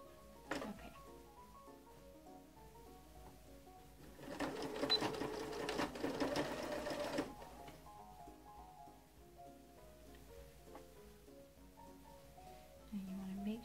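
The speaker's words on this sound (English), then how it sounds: "let me get my sewing machine set up properly." A sewing machine whirs steadily for a few seconds in a fast mechanical stitching rhythm while sewing a fitted cloth diaper with cotton velour, with quieter background murmur and talk before and after.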